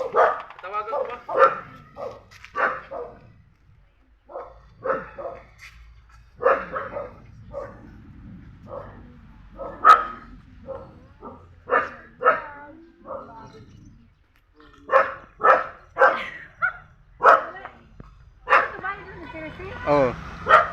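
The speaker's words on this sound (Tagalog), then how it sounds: "Daming aso" Many dogs at a home bark in bursts around a visitor, repeated yips and barks scattered throughout, with some whimpering mixed in among the barking.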